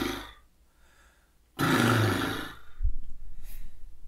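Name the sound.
relaxed lip trill imitating an old truck or horse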